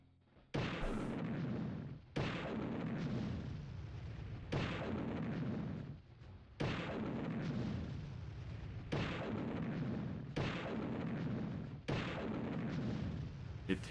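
Heavy booming shots in the N64 game Army Men: Sarge's Heroes repeat about every two seconds, each loud blast followed by a long rumbling decay, with no talking.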